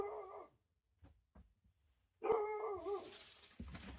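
A dog gives a few short barks and a whimpery yip, close and fairly quiet, with silent gaps between the sounds and a breathy rustle at the end.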